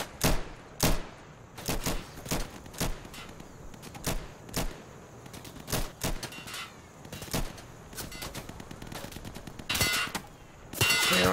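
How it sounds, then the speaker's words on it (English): Gunfire in the video game Insurgency, with sharp single shots and short bursts laying down cover fire at an irregular rhythm, loud and close, plus some metallic clanks. "Providing cover fire."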